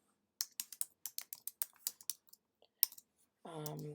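Typing on a computer keyboard to fill in an online consultation form, a run of quick close key clicks in an uneven rhythm, then a pause before a short burst of a voice at the end.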